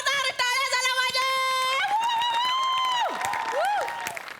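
Audience applause on a Marathi comedy show, with steady clapping running under loud tonal music and sliding whistle-like effects for the whole stretch.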